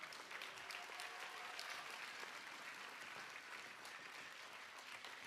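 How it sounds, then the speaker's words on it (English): An audience at an elementary school spring concert gives a tuba section a warm round of applause, steady and even clapping from many hands at a moderate distance that carries on without pause. "Big round of applause for our tuba section"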